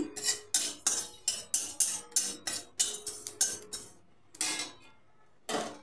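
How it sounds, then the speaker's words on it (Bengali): Panch phoron spices dry-roast in a wok, a spatula scraping and rattling in quick, sharp strokes about a dozen times close up, then a pause before two more scrapes. "শুকনো কড়াইতে 5 ফোড়ন ভেজে নিচ্ছি।"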